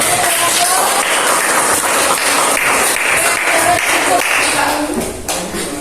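Schoolchildren in a classroom applaud in a loud, sustained wash of clapping, with voices mixed in and the noise easing slightly near the end.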